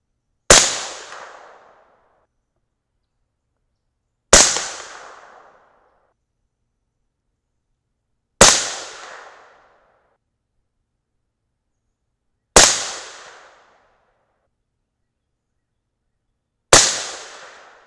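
Five .223 Remington rifle shots firing 65-grain Cutting Edge MTH loads, each a sharp loud crack with a short decaying tail, spaced evenly about four seconds apart with silence between.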